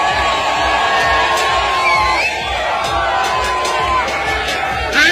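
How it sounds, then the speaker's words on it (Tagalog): A large crowd at a political rally in a Philippine district shouts and cheers continuously, loud and dense with overlapping voices and whoops, a sustained roar of people chanting a candidate's name throughout. "ang sigaw po sa mga tao, Marcos, Marcos, Marcos ang sigaw ng mga tao"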